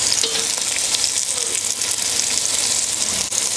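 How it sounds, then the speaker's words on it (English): Beef sears in a hot pot on a Kamado Joe Classic 2 grill for a smoked beef stew, giving a steady, close, loud crackling sizzle with faint stirring sounds and no talk. "That's what you want to hear, the sizzle"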